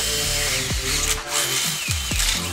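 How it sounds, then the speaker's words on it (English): A power drill bores a hole through the frame of a fully electric 72V ATV, its motor whining steadily and close, with pitch drops and brief slowdowns as the bit bites, loud and without talking. "now you just drill the hole through, like, the receiving part of the frame"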